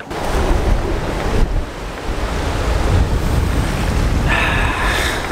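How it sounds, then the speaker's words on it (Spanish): Sea waves surge and wash against the coast at Callao, Peru, with steady loud surf and gusty wind buffeting the microphone throughout, no voices. "Allá el mar."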